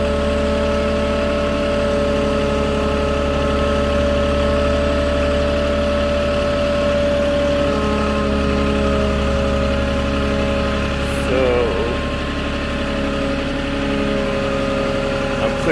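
Moffett truck-mounted forklift engine droning steadily as it climbs uphill on a fence panel delivery, a continuous mid-pitched hum with a brief mechanical whine partway through.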